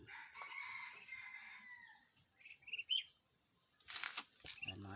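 A nearby rooster crows and clucks alongside other chickens, with a brief burst of wing flapping and scattered bird calls over quiet farmyard ambience.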